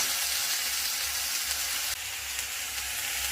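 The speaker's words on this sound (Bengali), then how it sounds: "দিয়ে দিলাম গোটা গরম মশলা, তেজপাতা ফোড়ন" Whole garam masala and bay leaves sizzle steadily in hot oil while tempering for an Indian mankochu (giant taro) curry, a close, continuous frying hiss with a slight dip partway through.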